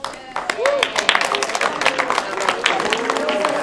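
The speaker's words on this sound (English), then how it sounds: "That's a quite weak clap." Thin, scattered clapping from a small group of students at a National Junior Honor Society meeting, uneven and brief bursts in a room, with talking mixed in.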